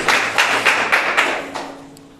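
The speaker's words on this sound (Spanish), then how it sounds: "Vamos a darle un aplauso al Rey de Reyes, Señor de Señores" A church congregation claps in a series of sharp, evenly spaced bursts, about six strong hits that fade into a lighter patter near the end, with a low sustained tone underneath.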